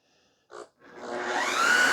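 A Shark HydroVac XL WD101 corded vacuum mop switches on after a brief click and its motor spins up into a steady, rising whir.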